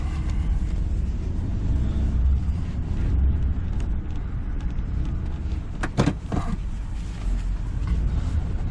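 Car driving along the road on a trip home from Jackson, a steady low interior rumble of engine and tire noise with a few brief rattles midway, continuous and close.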